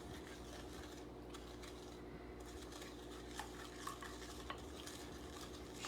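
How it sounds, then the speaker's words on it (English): Eggs, sugar, melted butter and extract for biscotti are stirred together in a bowl, a faint, continuous scraping and swishing with a few light clinks of the utensil against the bowl. "So we have the eggs, the sugar, the melted butter, the extract. So we're going to mix that."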